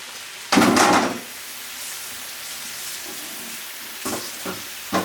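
Quartered tomatoes cooking down in a pan for a sofrito for a Jamaican lentil curry, with a loud burst of sizzling at first that settles into a steady, quieter fry with a few stirring clatters.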